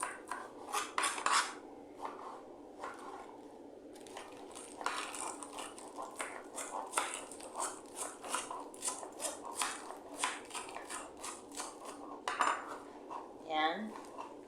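Pretzel salad with lettuce and rocket tossed in a bowl, giving close, busy clinks and scrapes of utensils against the dish in uneven bursts, with light rustling between strokes and no talk.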